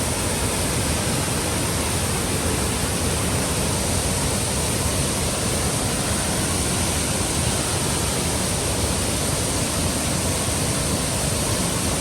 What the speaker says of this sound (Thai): นี่น้ำตก